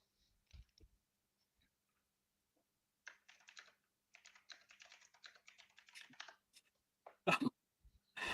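Fingers typing on a computer keyboard, with faint scattered clicks first, then a steady run of quick keystrokes and a few sharper taps near the end, quiet and close in a room.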